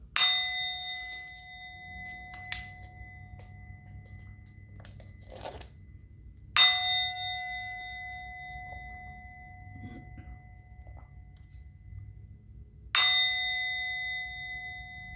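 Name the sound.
bell being rung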